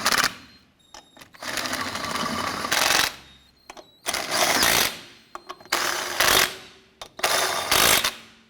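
Impact wrench or power tool snugging down lug nuts on a 1993-1997 Ford Ranger front wheel, four loud whirring bursts of about one to two seconds each, separated by short pauses.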